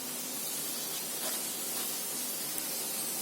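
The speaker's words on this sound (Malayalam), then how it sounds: "വെള്ളം തിളച്ചിട്ടുണ്ട്." Water at a rolling boil in a cooking pot on a stove, ready for semolina, giving a steady, even hiss and bubbling rush that holds at a constant level without pause.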